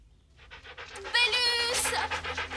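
A dog in the animated series Cendrillon pants rapidly and loudly at close range, a quick rhythmic huffing that builds after a quieter start.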